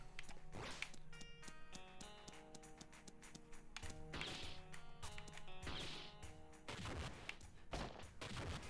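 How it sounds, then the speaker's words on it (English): Bursts and blasts in the video game Iconoclasts, repeated sharp explosive hits and whooshes layered over constant game music with sustained tonal notes. "Why did those explosions not hit the rocks?"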